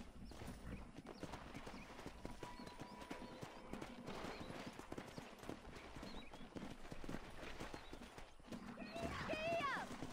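Horse hooves clip-clopping in the Red Dead Redemption video game, a quick steady rhythm of hoofbeats with a horse whinnying near the end, under game music and ambience.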